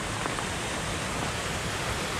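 A waterfall on a coastal path pours down with a strong downdraft, mist and spray, a close, loud, constant broadband roar with no break.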